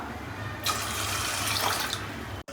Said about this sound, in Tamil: இப்போ நம்ம இதில் 2 கப் அளவுக்கு தண்ணி சேர்த்துக்கலாம்.